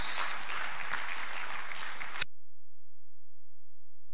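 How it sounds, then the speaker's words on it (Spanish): A church congregation bursts into loud, dense applause for about two seconds before it cuts off abruptly into silence. "Vamos a darle un fuerte aplauso a Cristo Jesús"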